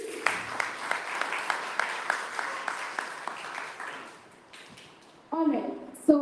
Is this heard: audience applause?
yes